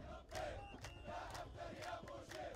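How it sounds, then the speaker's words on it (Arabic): Demonstrators at a street rally in Benghazi chant slogans in support of the army, a large crowd shouting in rhythmic bursts that rise and fall, loud and sustained, with a distant roar beneath. "خرجت في بني غازي مظاهرة أكد المشاركون فيها دعمهم للجيش الليبي مرددين هتافات ضد المجلس الرئاسي"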